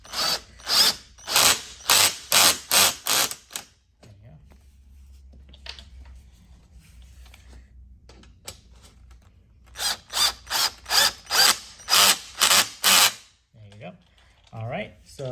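A power drill driving screws while assembling a corner desk whirs in rapid bursts, pauses for a few quiet seconds with a low hum, then starts again, close and loud.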